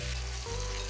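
Food dropped into hot oil in a home kitchen, as in a Bengali frying scene, gives a steady close hiss and crackle of sizzling that thickens briefly midway and then carries on evenly.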